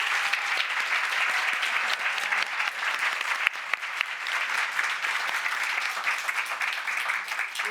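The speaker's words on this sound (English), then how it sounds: "I'd like you to give a round of applause to the speakers" Sustained audience applause for the speakers at a women entrepreneurs' wealth-building event, a broad, even wash of many hands clapping at moderate distance that continues steadily throughout, without talk over it.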